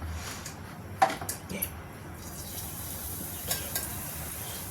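Broad beans and potatoes frying in hot oil make a soft, steady sizzle with a few brief clinks and scrapes of stirring. The sound is fairly quiet and close, with no voices.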